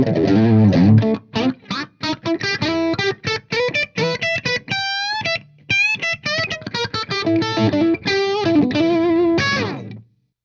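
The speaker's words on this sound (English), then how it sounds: "how it sounds with the gain on the pedal cranked all the way up" Heavily distorted electric guitar through a Morley 2020 Distortion Wah with pedal gain at maximum, sweeping wah, choppy riffing and a few sustained bent notes, loud and saturated before cutting off.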